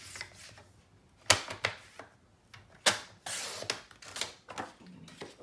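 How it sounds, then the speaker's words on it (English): Cutting a sheet of white cardstock for a Christmas mini album, a handful of sharp crisp snips and slices spaced irregularly, close and fairly quiet with no talking. "So we're going to cut a white piece of cardstock"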